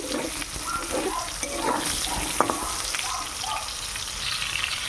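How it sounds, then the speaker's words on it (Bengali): Pieces of pointed gourd frying in hot oil give a continuous bubbling sizzle at close range, steady and fairly loud, with a single brief clink partway through. "দেখো আর একটু ভাজবো।"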